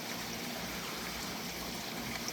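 Creek water flows steadily along its banks in a continuous, even rush of trickling and babbling, close and fairly loud, with no voices present.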